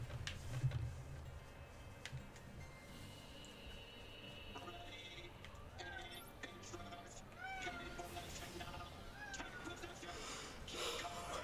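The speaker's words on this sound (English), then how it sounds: "My kitty keeps meowing," A house cat meows several times at moderate distance, short rising calls scattered through the second half, heard faintly beneath a person talking and game sounds.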